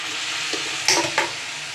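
Chicken biryani rice, just dosed with rose water and kewra water, gets stirred in a pot. Two brief scraping strokes rise over a steady low hiss, close by and short.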